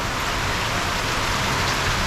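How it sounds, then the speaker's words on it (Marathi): Unseasonal rain pours down steadily in a rural farming area during a hailstorm, a dense, even hiss of drops on surfaces that stays loud and constant throughout with no voices. "फायनली पावसाचं पाणी सुरुवात झालेलं आहे खाली ओतायला"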